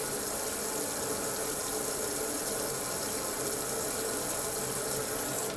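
Water runs steadily from a tap during a surgical hand scrub, a dense even hiss that fills the whole stretch without pause or talk.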